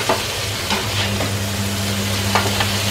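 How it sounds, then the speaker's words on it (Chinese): Scallops searing in a hot pan in a hotel-suite kitchen, a steady close sizzle and frying hiss with occasional stirring scrapes, heard alone with a low hum underneath. "咁我爆一爆啲帶子嘅"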